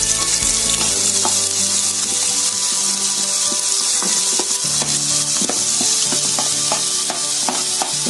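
Sliced onion frying in hot palm oil, a strong continuous sizzle close up, with repeated scraping and stirring knocks from a utensil against the pan, no speech.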